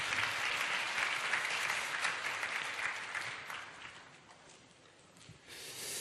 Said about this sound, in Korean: 나올 때 우리 큰 박수로 환영하고 축복하겠습니다.